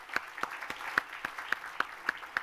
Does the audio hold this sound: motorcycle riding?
no